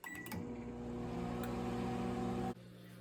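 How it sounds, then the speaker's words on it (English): A microwave oven heating leftover Thanksgiving sandwich meat hums steadily at close range, a low droning tone with a few clicks at the start, and the hum drops off sharply near the end. "Just put them in the microwave"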